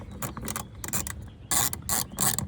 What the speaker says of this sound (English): So this is my ratchet and socket, 10 millimeter.